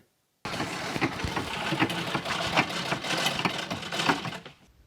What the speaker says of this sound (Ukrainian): До роботи на швейній машинці Любов Правдивець повернулася після майже 40-річної перерви